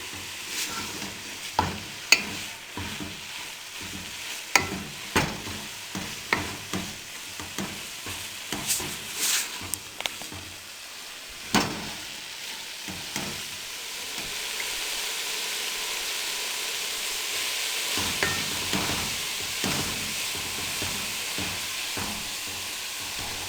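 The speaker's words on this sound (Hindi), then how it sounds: "अब इनको अच्छी तरह भून लें। इतना अच्छे तरीके से भून लें कि कुकिंग ऑयल इसमें मिक्स हो जाए।" Radish (mooli) paratha filling frying in cooking oil: a steady sizzle with repeated sharp scrapes and knocks of a spoon stirring the pan, the sizzle louder and more continuous in the second half.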